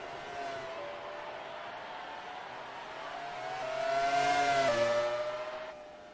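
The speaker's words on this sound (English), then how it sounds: "they come down the straight. It's in the slipstream." Race cars run down the straight at the Australian Grand Prix, one tucked in the slipstream of another, their engine whine swelling as they draw near and fading off, fairly faint and heard without talk.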